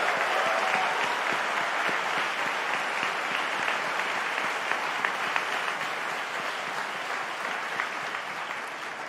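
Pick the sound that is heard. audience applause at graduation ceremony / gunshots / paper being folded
audience applause at graduation ceremony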